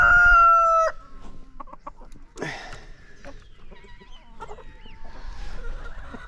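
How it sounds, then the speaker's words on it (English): Roosters on a small farm crow and cluck close by, one long crow opening loudly before shorter clucks and further crows follow, with no talking. "we have a lot of roosters."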